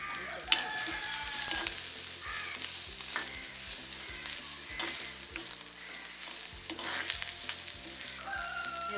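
Leafy greens sauté in a frying pan over a fire, a continuous close sizzle with frequent stirring scrapes and clicks of a spoon, no voices.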